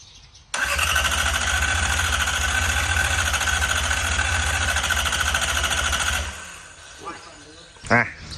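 An engine catches and starts after a battery change and fuel bleeding, then runs at a steady loud idle for several seconds before cutting out, followed by brief faint knocks and a short bump.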